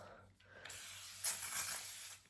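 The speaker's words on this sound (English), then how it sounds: "So I'm going to spray some of the Avene Thermal" Avene Thermal facial mist sprayed from a can during a microcurrent facial treatment, giving a close hissing spray that swells in two soft bursts over a low steady hum.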